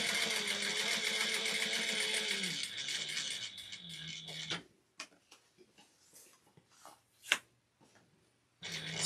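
A sewing machine stitches fabric with a steady, close mechanical whir for about four and a half seconds, then stops, leaving scattered soft clicks and handling noises before the machine starts again briefly at the end.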